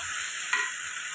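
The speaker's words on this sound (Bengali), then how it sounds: "এই মুগের ডালটা ধুয়ে রেখেছিলাম সেটা দিয়ে দিলাম।" Washed moong dal going into a hot pan over a very low gas flame, giving a steady soft sizzle with one brief louder stir or scrape partway through, close and continuous with no talk.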